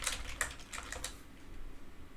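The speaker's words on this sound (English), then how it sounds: "Let me type this over here." Quick bursts of computer keyboard typing, close and fairly quiet, clustered in the first second before the room falls to a low hum.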